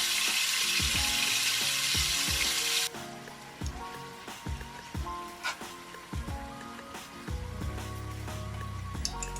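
Pork for Jamaican brown stew browning and searing in a pot, heard as a steady close sizzle with repeated metallic clicks and scrapes of stirring throughout.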